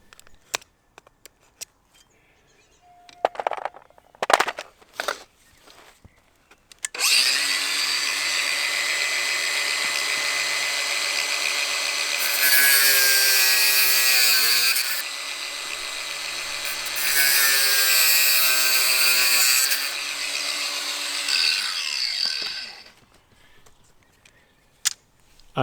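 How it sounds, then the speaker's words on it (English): A saw cuts through LGB garden railway track, a loud, steady grinding rasp lasting about sixteen seconds with a brief dip midway, preceded by a few scattered knocks and no talk. "Here I'm marking the position where the track has to be cut."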